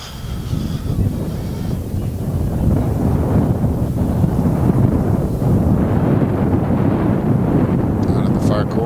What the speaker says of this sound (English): the wind continues to increase up here